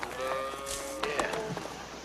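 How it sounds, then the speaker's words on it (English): Cattle on a ranch moo in a long drawn-out low call, with more bellows over a busy outdoor background. "That's Bolton stealing our cattle."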